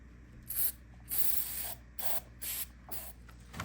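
Lubricant hisses from an aerosol spray can onto the lower spray arm of a GE Café dishwasher in several short, close bursts separated by brief pauses.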